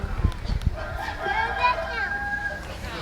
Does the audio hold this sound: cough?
no